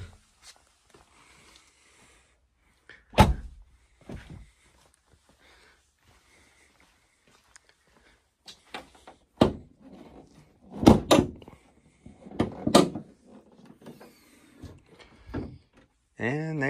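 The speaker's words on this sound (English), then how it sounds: "So I want to get the hood latch down here." Hood latch of a Dodge Challenger Scat Pack with the 6.4 liter Hemi released and the hood lifted, heard as a few sharp metallic clunks and thumps spread across mostly quiet stretches, close by, with a little talking.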